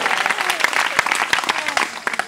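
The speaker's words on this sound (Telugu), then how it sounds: "ఒకసారి గట్టిగా చప్పట్లు కొట్టండి." A church congregation at a gathering claps hard in unison, a loud, fast run of sharp claps with voices mixed in underneath.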